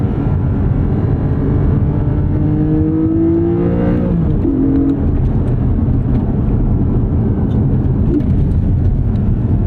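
A Porsche Cayman 718 GTS 4.0 engine howls loudly from close by, its note climbing under hard acceleration, then dropping sharply at a gear change before the steady drive resumes.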